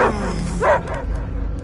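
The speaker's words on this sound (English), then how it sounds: "I hear only barking." Dogs bark in a short rough burst near the start and again mid-clip, with whimpering yips between, fairly close and loud over a low rumbling background in a tense sci-fi film scene.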